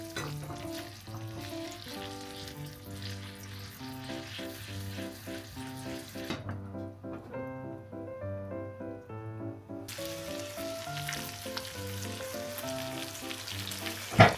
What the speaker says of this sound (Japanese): 時々返しながらすべての面を焼いて15分経ちました